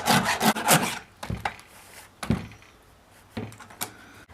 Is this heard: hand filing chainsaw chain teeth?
yes